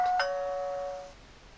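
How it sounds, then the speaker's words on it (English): A doorbell rings with a single ding-dong, a clear bright chime struck twice in quick succession that rings out and fades over about a second, with no voices. "Somebody rang the doorbell."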